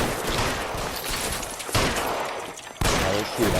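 Gunfire during a shootout in the video game L.A. Noire, a dense, continuous barrage of shots with sharp fresh volleys breaking in every second or so, loud and close.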